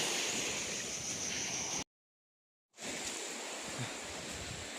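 Ocean waves washing onto a beach, a steady broadband roar of surf with wind, cut by a brief drop to silence in the middle before the wash resumes.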